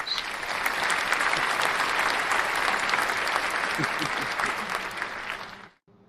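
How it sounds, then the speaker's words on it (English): A crowd breaks into dense, continuous applause that holds steady for several seconds before cutting off abruptly near the end. "I think that deserves an applause"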